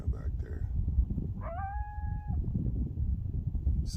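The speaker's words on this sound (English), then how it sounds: "It's a coyote." A coyote howls outdoors at night in a garden, a single wavering, rising call lasting about a second, distant and thin over low background noise.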